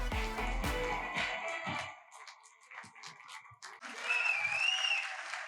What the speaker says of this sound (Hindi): एक बार जोरदार एनर्जेटिक वाली तालियां होनी चाहिए